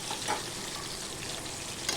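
Pointed gourd pieces sizzling in hot mustard oil with turmeric and salt, a dense, even crackle of frying heard close and alone with a couple of faint clinks.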